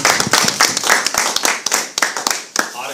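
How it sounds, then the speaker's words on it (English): Audience applause at a speaker series talk, dense rapid clapping from many hands filling the room, steady and loud with a brief voice mixed in. "Round of applause for Mr."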